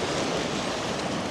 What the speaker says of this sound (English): There you go, copious amounts of water coming down there.